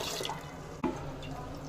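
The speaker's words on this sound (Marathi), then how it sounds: "अशा प्रकारे आपल्याला तांदूळ धुवून घ्यायचे आहे।" Tap water runs steadily into a vessel as rice is washed, with a brief splash or clunk midway through the continuous flow, close by and without talk.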